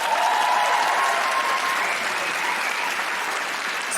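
An audience at a live podcast recording in Canberra gives dense, continuous applause for a guest, a steady wash of many hands at even volume throughout, with no speech over it.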